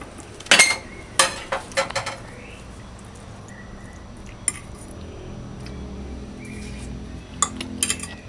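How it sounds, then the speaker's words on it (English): Knife and fork work through a beef pot roast on a plate, with sharp clinks and scrapes of cutlery against china in scattered bursts, close up over a quiet room. "You just get a knife and you just cut it"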